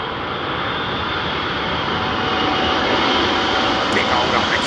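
An Airbus A380 landing at Heathrow in storm-force wind gives a loud, steady jet engine roar mixed with broadband wind rush, with a voice speaking over it throughout.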